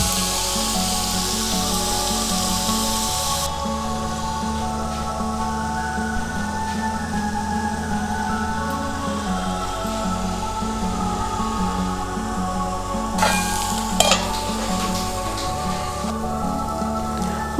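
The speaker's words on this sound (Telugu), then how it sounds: "ఈ వెజిటేబుల్స్ అన్నీ కొంచెం మగ్గేం దాకా ఉంచుకోవాలి." Mixed vegetables salted and left to soften in a covered pan while they cook, giving a steady soft sizzle and hiss throughout with occasional faint clatter near the end.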